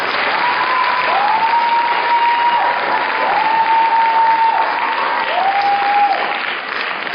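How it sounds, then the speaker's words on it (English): Sustained audience applause in a hall after a Kuchipudi dance debut recital, a full dense clapping that holds loud and steady for several seconds, with a recurring tonal whistle-like sound running over it. "Big round of applause."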